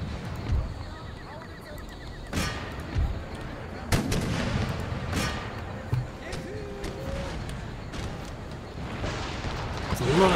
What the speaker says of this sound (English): we are hitting them with conventional musket fire